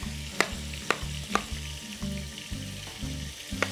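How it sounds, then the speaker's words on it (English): Rabbit searing in a pan ahead of a beer braise, a low steady frying sizzle broken by sharp regular clicks and taps roughly every half second. "that rabbit's developing a bit of a crust around it"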